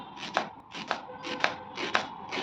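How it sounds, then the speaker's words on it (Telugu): A knife slices onions lengthwise on a cutting board for a bitter gourd and garlic curry, with five steady, evenly spaced chops close up and no speech. "ఇప్పుడు ఉల్లిపాయలు కోసుకుందాం ఉల్లిపాయలు ఇలాగా ఈ కూరలోకి పొడుగుగా కోసుకోవాలన్నమాట"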